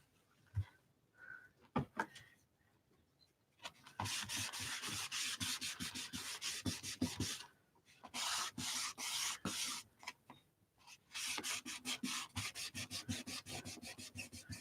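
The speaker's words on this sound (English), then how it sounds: "Look, I can rub those off." Tissue rubbing off marks on an artist trading card, heard as repeated close scratchy rubbing strokes in bursts with brief pauses, fairly faint and with no talk.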